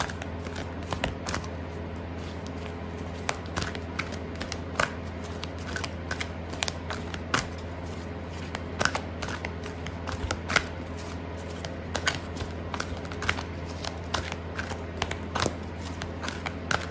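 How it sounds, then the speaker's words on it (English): Tarot cards being shuffled and drawn for a Gemini love reading: a steady run of soft papery riffles and flicks with scattered sharper snaps, close and fairly quiet, with no talking. "I'm gonna pull out a card for your advice"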